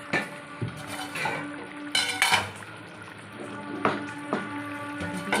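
An egg curry bubbles vigorously in a pot after a cracked egg is poured in, with a steady boiling hiss punctuated by clinks and scrapes of utensils against the pan.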